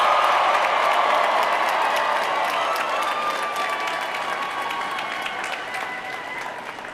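A large graduation crowd at an outdoor university commencement applauds and cheers, a dense sustained roar of clapping that stays loud and slowly fades over several seconds, with faint voices mixed in.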